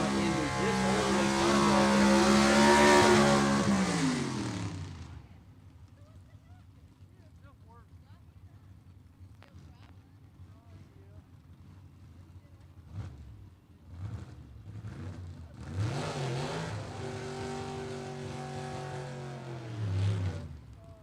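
Gasser drag cars race down Gulfport Dragway in a Southeast Gassers Association event. Loud, rising engine roars fade out after a few seconds, leaving quiet track ambience and commentary, before another roaring pass returns near the end.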